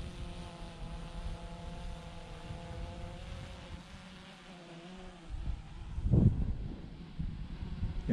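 DJI Mavic 2 Pro drone accelerating in sport mode, a steady buzzing propeller whine with harmonic tones that shifts in pitch, with a louder burst of rushing noise near the end.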